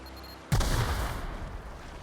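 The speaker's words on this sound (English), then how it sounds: "That was an explosion. Somebody didn't want me finding this." A sudden loud explosion in the video game The Outer Worlds bursts in after a quiet moment, then rumbles and decays over the next second and a half.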